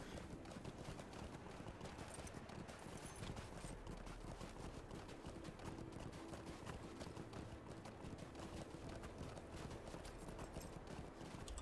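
Horse hooves trotting in the Lord of the Rings Online video game, a steady quick clip-clop running without a break under a dense, noisy game soundscape.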